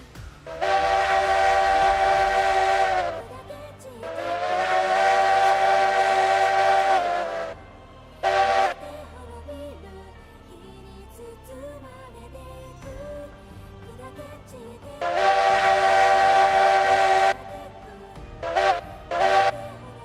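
A coal-fired steam train passing a freight depot sounds its whistle in long, loud harmonic blasts, two sustained and then shorter toots, over a low rumbling chug of the locomotive.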